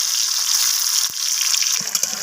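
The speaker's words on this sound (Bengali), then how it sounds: "তো আলুগুলোকে এবার তেলের মধ্যে ছেড়ে দিচ্ছি, আলুগুলোকে লালচে করে ফ্রাই করে নেব।" Potatoes fry in hot oil in a wok over a wood-fired stove, giving a bright, steady sizzling hiss with one sharp knock and a few soft stirring bumps near the end.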